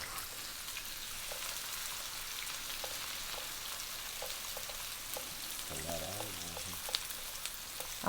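Onions and garlic cooking down in a pan for oysters Parmesan give a steady, soft sizzle and crackle throughout, with faint scattered pops and a brief murmur of background noise.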